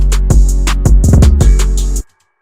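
Deep drum-machine kicks and a booming 808 bass line, with the cloned kick's polarity set back to normal, play a brief rhythmic pattern, with a quick cluster of hits near the end before cutting off.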